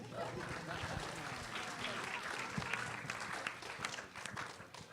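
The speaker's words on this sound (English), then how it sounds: "you can keep clapping" Audience applause fills a press conference room for a film's director and cast at a festival, a steady wash of many hands clapping at moderate volume with a few louder claps standing out, running throughout.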